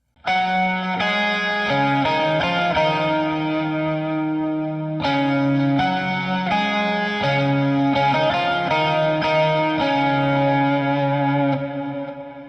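Electric guitar picks a song's melody an octave down through a Line 6 Helix with echo and light distortion, steady notes in two matching phrases, played alone at full volume.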